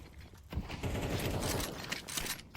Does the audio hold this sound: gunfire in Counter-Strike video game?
yes